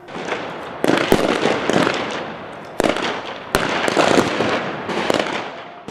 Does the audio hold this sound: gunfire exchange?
yes